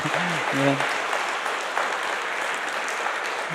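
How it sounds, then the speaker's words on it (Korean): A church congregation, standing during a Sunday worship service, applauds the pastor with steady, full clapping that fills the room and carries on evenly after a brief voice at the start. "우리 다 같이 일어나셔서 우리 목사님께 다시 한번 감사 박수하겠습니다"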